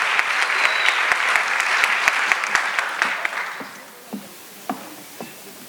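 Applause from a seated audience at a round-table panel for the moderator, a dense steady wash of clapping that thins out and fades into a few scattered claps.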